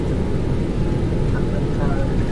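Boeing 737-900 jet engines spooling at takeoff power in X-Plane 11, a steady, loud, broadband roar holding constant throughout with no break.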